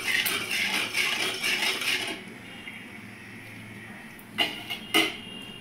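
Kashmiri chili powder and salt stirred into hot oil in a pan, with a steady close sizzle for about two seconds, then near quiet broken by two sharp clinks of a utensil against the pan.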